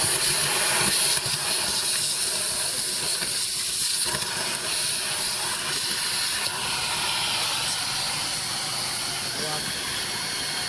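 A vacuum draws leaf debris out of a car air conditioner unit, giving a steady, loud broadband hiss and roar that runs unbroken at close range, with someone talking over it.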